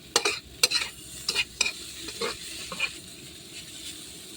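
Pork fried rice being stir-fried in a hot pan, with a soft steady sizzle under sharp spatula scrapes and clacks that come in quick bursts early and then thin out.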